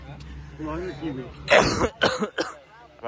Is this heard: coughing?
yes